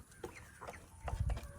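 Mother hens clucking close by in short soft bursts, with a few low thumps and rustles toward the end; no talking.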